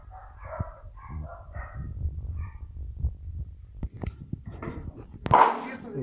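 Four puppies, among 31 dogs kept in an apartment, give soft yips and whimpers while they eat nearby, along with bumping and rustling and one sharper bark near the end.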